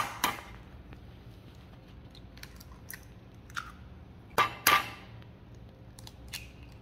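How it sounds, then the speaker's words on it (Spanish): Eggs cracked in a home kitchen: a few sharp, close taps and cracks spaced apart, with two louder snaps near the middle, over a quiet background. "Vamos a cascar los huevos."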